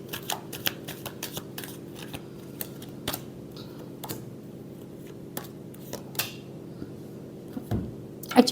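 Tarot cards shuffled by hand in rapid riffling bursts of crisp papery snaps and ticks, close and fairly quiet, with short pauses between runs over a faint steady hum.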